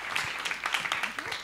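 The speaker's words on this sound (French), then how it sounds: "Accueillez sous vos applaudissements Aline Gégou" An audience applauds to welcome a speaker at a talk about designing creativity rooms and third places, brisk close clapping with a voice briefly audible underneath.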